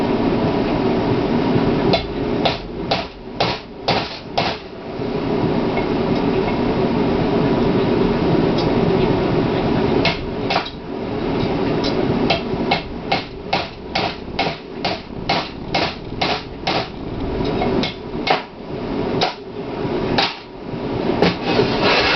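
A bushing cutter works on a transmission bushing during a C-6 high-performance transmission build, making a loud, close, grinding rattle broken by repeated sharp knocking bursts in uneven clusters, with no talking.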